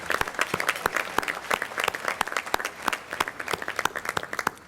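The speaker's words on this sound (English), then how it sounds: "Can you give yourselves a round of applause?" An audience at an architects' conference gala in Houston claps enthusiastically, a lively burst of many hands with distinct sharp claps over a continuous crowd wash.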